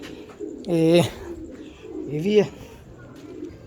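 A newly paired pigeon couple, Firozpuri breed among them, coos twice nearby in soft throaty rolls, with someone speaking briefly between the calls.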